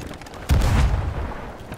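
One deep, booming cannon shot in the video game Sea of Thieves erupts suddenly and rolls off into a low rumble, with no voices heard.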